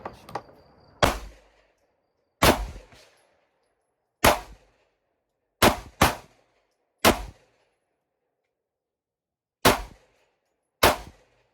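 Single handgun shots outdoors from an MR920 and a Glock 43X pistol, eight sharp loud cracks spaced irregularly with short ringing decays and silence between them.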